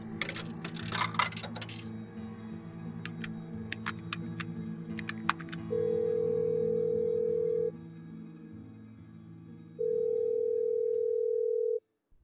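Telephone call effect in a radio drama: a handful of coins clatter and drop into a payphone, small clicks follow, then two long steady dial-tone buzzes separated by a brief gap, close and clear with no voices.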